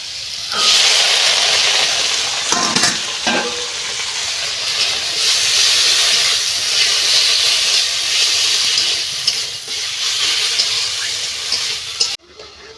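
Green peas hit hot oil in a wok, setting off a loud, steady hiss of sizzling with a few sharp clatters early on, running continuously before cutting off abruptly near the end.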